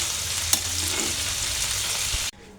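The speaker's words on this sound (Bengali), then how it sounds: "আলুটা সেদ্ধ করে নিয়েছি এখন আমি সরিষার তেলে ভেজে নিচ্ছি" Boiled potatoes frying in hot mustard oil in a pan, a steady close sizzle and crackle with a brief stir clatter, cutting off near the end.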